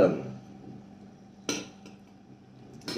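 A spoon clinking on a plate of sambar idli, with two or three sharp, close ceramic clinks spaced apart over a quiet room, and a little background voice at the start.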